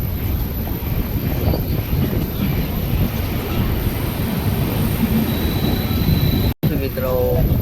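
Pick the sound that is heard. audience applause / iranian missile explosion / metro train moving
metro train moving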